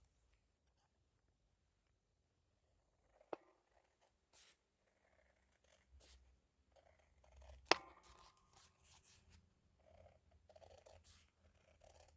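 Scissors cut apart strips of vellum faux washi tape in a quiet room, giving sparse, faint snips and rustles with one sharper click partway through.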